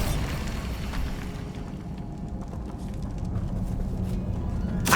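An explosive Bombarda spell from Hogwarts Legacy, set near a rumored cave: heavy booming blasts that open and close the moment, with a rumbling, crackling roar in between.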